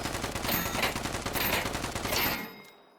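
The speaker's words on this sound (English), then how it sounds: "So let's switch to a automatic gun and see what kind of damage we can do." Sustained automatic gunfire in Deadside, a rapid continuous burst of loud close shots that cuts off abruptly near the end.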